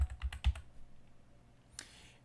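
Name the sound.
typing on a computer keyboard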